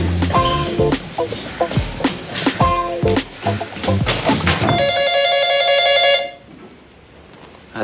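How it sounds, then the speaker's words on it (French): A telephone rings repeatedly indoors in a French drama scene, harmonic bell-like tones pulsing through busy background sound before a steady ring tone holds for about a second and a half, then cuts off into near quiet. "ça fait au moins 20 sonneries, là"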